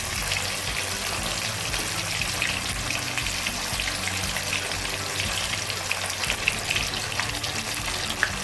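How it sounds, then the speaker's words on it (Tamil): Lady fish coated in masala frying in hot oil, a dense steady sizzle and crackle that runs close and loud without a break and with no talking over it. "அப்படியே எண்ணெயில் போட்டு எடுத்துக்கலாம்"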